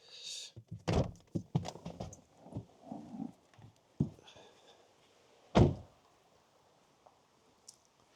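The boot of a Nissan Leaf is opened with a quick run of close mechanical clicks and thunks, then the lid lifts with a couple of sharper knocks amid quiet handling noises.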